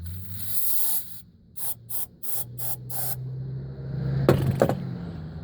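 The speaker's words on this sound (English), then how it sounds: "Let's give it a little carb cleaner." Carb cleaner is sprayed into the carburetor of a Seadoo personal watercraft that won't start, in a long hiss followed by several short bursts, close and loud over a low steady hum, then a brief clatter.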